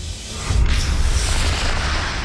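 Rockets launching outdoors at Skinwalker Ranch right after a countdown, a sudden loud broadband roar that swells and then holds as a rushing, rumbling blast.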